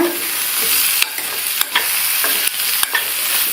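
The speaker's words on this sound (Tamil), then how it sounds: "இதை இது மேலே சேர்த்துட்டு நல்லா ஒரு தடவை மிக்ஸ் பண்ணி விட்டுருங்க" Crushed garlic stirred into a potato side dish sizzling in a pan, a steady hiss broken by a few sharp scrapes of the spoon against the pan.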